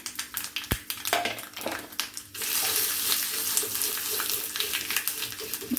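Dried chilli and asafoetida powder frying in oil for chutney: a few sharp clinks and pops, then a sudden rise into a loud, steady hissing sizzle that carries on to the end.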